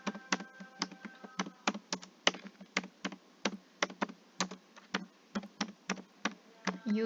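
Keys on a computer keyboard clatter in quick, irregular bursts of crisp clicks, close and fairly quiet, with no voice over them.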